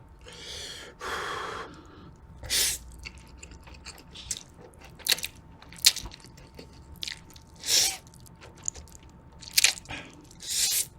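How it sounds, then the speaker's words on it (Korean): Someone eating spicy ramen wrapped in thin-sliced pork belly, with close bites, crunchy chewing and sharp gasping breaths in short bursts and gaps of quiet, no talk. "대패 삼겹살을 싸서 한번 먹어볼게요"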